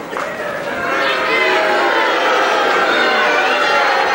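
A wrestling crowd roars and chatters loudly as Holton raises his arm, a broad sustained swell of voices that builds and holds, with a commentator talking over it.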